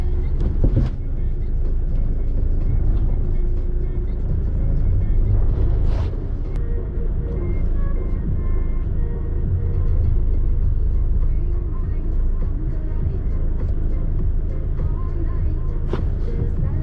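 A loader lifts and loads a salvage 2019 BMW X3, its diesel engine giving a steady, loud low rumble that drones on throughout with only slight swells.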